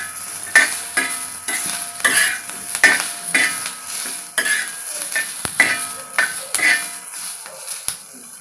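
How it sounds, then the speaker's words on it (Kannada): Onions frying in a hot pan for a Karnataka kattina saaru, with a steady sizzle broken by repeated scraping stirs of a spatula against the metal, close and fairly loud, no voices. "ನೋಡಿ, ನಮ್ಮ ಈರುಳ್ಳಿ ಚೆನ್ನಾಗಿ ಫ್ರೈ ಆಗಿದೆ."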